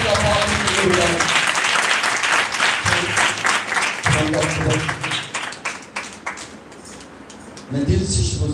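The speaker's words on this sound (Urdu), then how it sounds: "ہم زوردار تالیاں خدا پاک کے لیے بجائیں" A church congregation breaks into loud, sustained applause for God, filling the space with dense clapping, while a voice talks over it intermittently before the clapping thins toward the end.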